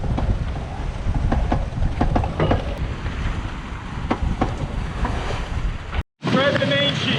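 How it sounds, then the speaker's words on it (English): Strong wind of about 18 knots blowing over a sailboat on the North Atlantic, loud roaring gusts with water wash and buffeting, cutting out briefly near the end, no clear speech. "We got about 18 knots of wind, steady."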